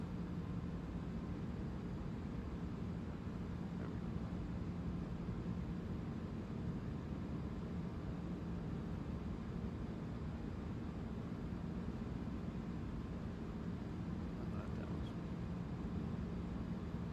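Airbus A340-300 climbing in Microsoft Flight Simulator 2024, a steady low engine drone and broad roar heard from the cabin, constant and unbroken with no voices.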